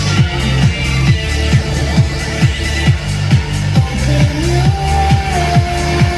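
A song plays loudly and continuously, with a steady pounding beat, dense layered instrumentation and a sustained melodic line entering partway through.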